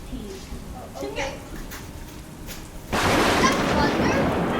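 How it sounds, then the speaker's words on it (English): Thunder during a heavy rainstorm. Faint voices and a quiet patter give way to a sudden loud, broad crash that keeps rumbling to the end. "That's thunder."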